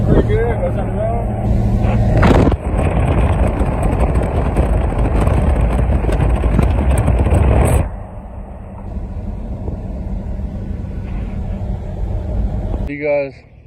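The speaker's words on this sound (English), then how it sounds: "Motor seems to run pretty good." A 1976 Pontiac Catalina engine runs nearby, a loud steady rumble that drops to a quieter idle partway through, with someone talking over it.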